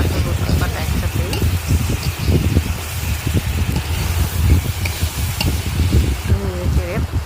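Salt with ginger and garlic paste being stirred in a pan on a clay stove: steady scraping and stirring over a soft, continuous sizzle, close and moderately loud, with no talk.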